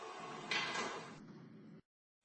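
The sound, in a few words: subway train doors closing in video game Subway Testing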